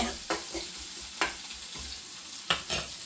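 Dried red chillies fry in hot oil for rasam, a close continuous sizzle punctuated by several sharp stirring scrapes at irregular intervals.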